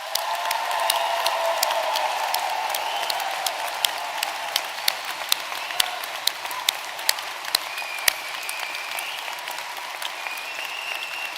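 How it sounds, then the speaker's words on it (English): An audience at a graduation ceremony gives the graduates a long, steady round of applause: dense clapping from many hands, moderately distant, with a few sharper claps standing out. "Let's have another round of applause for the graduates."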